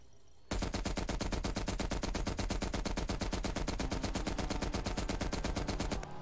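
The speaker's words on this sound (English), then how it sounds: "The M60." An M60 machine gun from Call of Duty Cold War Zombies fires one long, unbroken automatic burst of rapid, evenly spaced shots that is loud and close, with no talking over it.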